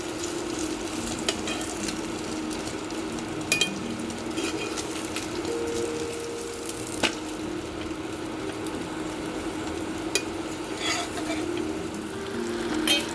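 A paratha with egg sizzles steadily in oil on a hot pan for a Kolkata street-style egg roll, with a continuous frying hiss, occasional clinks of a utensil, and faint background murmur.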